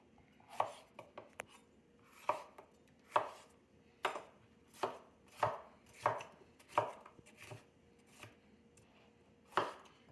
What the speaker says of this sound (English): slice them up again pretty flimsily